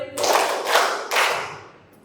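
A group of people claps hands in unison three times, three sharp even bursts of applause close together, then fading with no talking.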